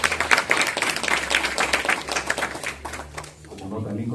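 Attendees at the opening session of a Peruvian international law congress clap together, a brisk, fairly close patter of hands that thins and fades near the end as a low hum takes over.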